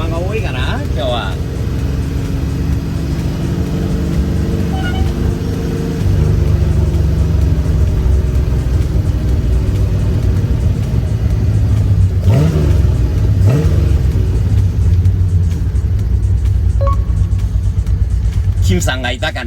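A classic Nissan Skyline Hakosuka driving with a steady, loud low engine rumble throughout, the pitch rising as it accelerates partway through, with people talking over it.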